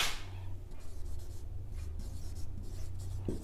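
Marker or chalk writing on a classroom board during a physics lesson, a run of scratchy strokes and short squeaks close by, with no talking over them.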